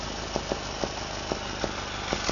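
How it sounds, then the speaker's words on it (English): A die grinder drives a car alternator, giving a steady mid-pitched whir with faint rhythmic ticks repeating through it, moderately quiet and without voices. "angle grinder or die grinder definitely does not have enough power to power an alternator."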